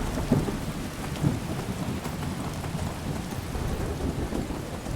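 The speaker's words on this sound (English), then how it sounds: "the rain is easing slightly" Steady heavy rain pours throughout in the video game Skyrim Special Edition, with low rumbles of thunder rolling in near the start and again a second later, loud and close.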